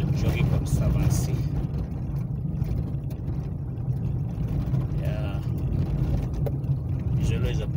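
A vehicle driving a bumpy dirt track through the Old Jogi Conservancy toward Doldol, with a steady low engine rumble and road noise from inside the cabin and someone talking over it.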